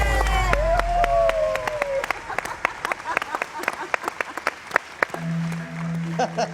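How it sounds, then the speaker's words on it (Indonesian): A studio audience applauds on a television game show, with bursts of clapping and a scattered, rhythmic patter of hands that rises and then thins out before a short tonal sting near the end. "Tepuk tangan untuk James"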